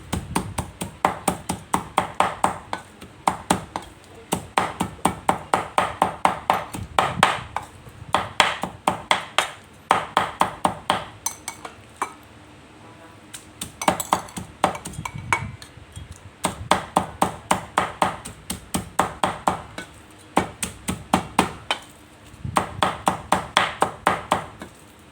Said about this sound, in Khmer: ឥឡូវយើងចាប់ផ្ដើមច្រាមប្រហុកទៅបងប្អូន